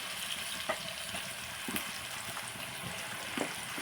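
Chicken frying in a hot pan for a Sunday chicken fry, a steady, moderate sizzle with a few soft clicks and stirring bumps, close up and with no talking.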